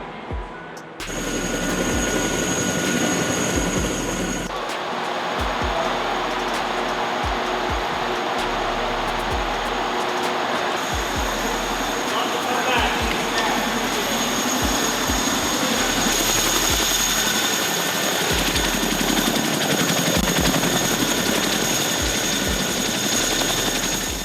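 Chinook twin-rotor military helicopter with engines roaring and rotor spinning at a landing zone, a loud, steady broadband turbine whine and rotor wash with rhythmic low blade thumps, sustained close by with no talk.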